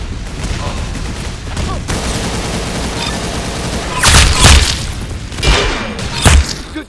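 Gunfire in the video game Arsenal: rapid bursts of loud shots and booming impacts, denser and heavier toward the end, over a constant background of game noise.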